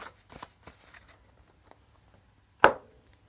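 A deck of cards for the board game Infection: Humanity's Last Gasp is shuffled nearby: faint riffling flutters early on, then one loud, crisp burst of cards riffling together, followed by quiet.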